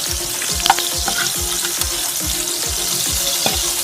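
Pizza bread fries in butter in a pan with a steady, close crackling sizzle, broken by regular rhythmic scrapes of stirring and a few sharp pops, no voices.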